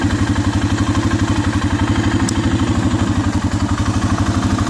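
A 2008 Arctic Cat 650 H1 4x4 ATV runs on a short test drive around a backyard, its engine chugging in a loud, close, steady rhythmic pulse with a faint clatter.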